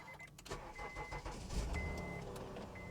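A Honda car engine cranks and catches, then settles into a steady idle, close and fairly quiet, with no talk.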